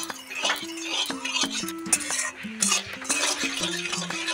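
Whole spices (two cloves, a cardamom pod and a bay leaf) are stirred with a little sugar in hot oil in a pan. A utensil clinks and scrapes against the metal in quick, close, repeated strokes, with no voices.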